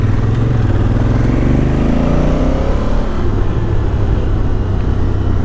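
A motorcycle being ridden on a European road trip gives a loud, close, continuous engine drone whose pitch rises then settles as it accelerates, with no voices.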